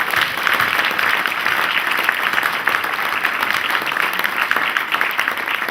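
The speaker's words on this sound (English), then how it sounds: "big round of applause, please" An audience applauding at an Independence celebration gathering at Highfields Centre, a dense, loud and sustained round of clapping from many hands filling the room without a break.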